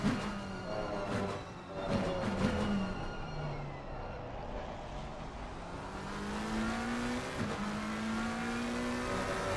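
A GT3 race car charging down the long straight at COTA in a racing video game, engine note rising steadily through gears with audible shifts, heard from the cockpit with other cars nearby.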